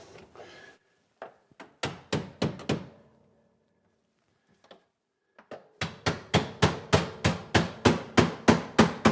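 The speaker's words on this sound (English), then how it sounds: "What we can do is use the handle of the hammer." A hammer handle taps soft aluminum trim into place inside a cabinet niche for a JennAir built-in appliance: a few scattered knocks, a pause, then a steady run of about a dozen sharp, close, evenly spaced taps.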